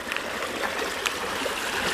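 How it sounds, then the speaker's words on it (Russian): A small stream of running water gurgles and trickles continuously, close by and moderately loud, with no voices. "Вот видите, вода. Бежит ручей, течет ручей"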